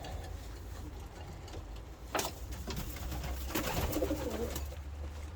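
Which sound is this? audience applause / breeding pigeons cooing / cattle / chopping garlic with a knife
breeding pigeons cooing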